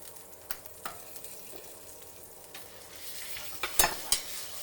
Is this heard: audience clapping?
no